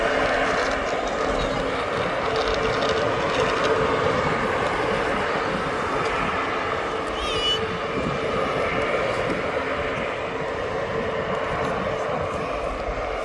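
An Aer Lingus airliner departing Birmingham Airport, a broad distant jet roar holding steady throughout with faint ambient noise.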